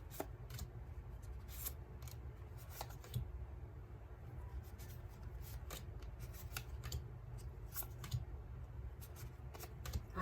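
Tarot cards shuffled by hand in a steady, rapid stream of soft riffling and flicking, with sharper snaps scattered throughout, quiet and close with a low background rumble.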